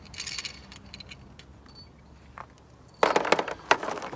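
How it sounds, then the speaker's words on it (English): Throttle body bolts are being taken off a 2017 Ford Fiesta: metallic clinks and jangles of a tool and loose bolts, faint at first, then a louder cluster of sharp rattles near the end. "so let's take these bolts off"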